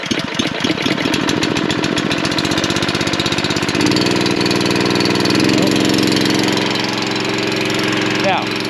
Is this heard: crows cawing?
no